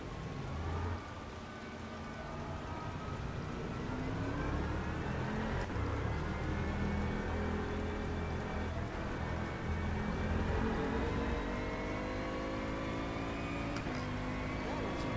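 Rain falls steadily in the racing video game rFactor 2 with upgraded GT3 cars, a continuous hiss of wet patter blended with a low car engine drone throughout, moderately quiet.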